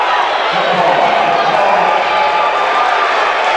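A basketball arena crowd on its feet keeps up a steady, dense roar of cheering, with a commentator talking over it throughout.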